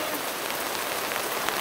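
Steady rain falls on hard surfaces in Ireland, a dense, even hiss of close drops with no talk over it.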